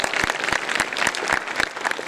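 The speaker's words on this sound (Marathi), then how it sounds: "त्यांच्यासाठी आपण टाळ्या वाजवूया." An audience at a village lecture event in Chinchpure claps together in a strong, rhythmic unison beat, roughly four sharp claps per second over a wash of scattered hand claps, fairly close and loud.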